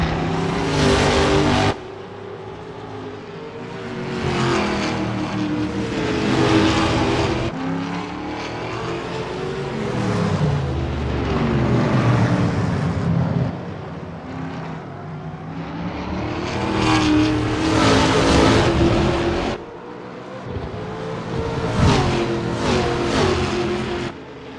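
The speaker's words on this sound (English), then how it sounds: "Walters is getting to grips with the VRC ARC TA2 Chevrolet General 6 in this practice session." VRC ARC TA2 Chevrolet race car V8 engine in Assetto Corsa at Sydney Motorsport Park, a loud, close, raw roar that rises and falls through repeated accelerations and gear changes, with brief lifts and no voices.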